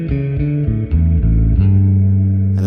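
A bass guitar plays through a Nightverb reverb pedal with pre-delay, a few loud low plucked notes that ring and blend with a smooth sustained tail, alone without voices.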